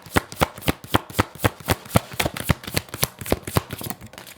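Tarot cards being shuffled and drawn, a steady run of crisp, evenly paced card slaps and riffles, close and fairly loud, with no voice over them.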